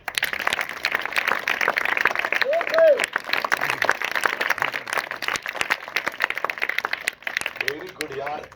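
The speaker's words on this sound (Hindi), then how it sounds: "एक मिनट ताली बजाइए।" A classroom of students applauds together in a steady, dense burst of clapping lasting several seconds, with voices talking over it.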